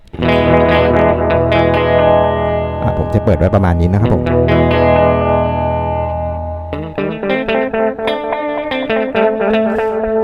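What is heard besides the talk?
guitar through pedal with gain raised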